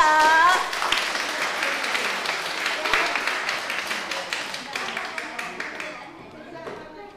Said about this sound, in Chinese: 咱鼓掌，给因拍手